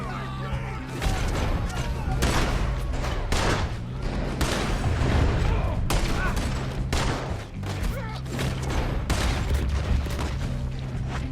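Rapid gunfire in Red Dead Redemption 2, a dense fusillade of loud overlapping shots through a hectic shootout, with voices shouting between bursts.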